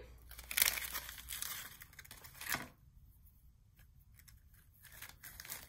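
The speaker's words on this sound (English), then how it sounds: "I definitely need new scissors." A few snips of scissors cutting close by, with crinkly paper rustle between cuts, then a quiet stretch before another faint snip.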